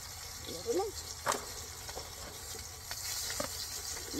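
Dried fish crackles and sizzles in hot oil outdoors, a steady frying hiss with scattered pops and scraping stirs throughout, while voices chat nearby.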